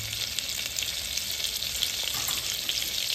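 Cumin seeds frying in hot oil and Amul butter in a pot over a gas flame, a constant close crackling sizzle with light stirring scrapes throughout, no voices.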